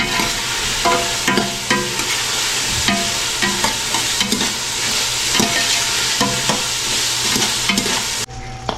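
Carrots and potatoes fry in a pan, a loud continuous sizzle broken by repeated scraping stirs of a utensil, with no talking.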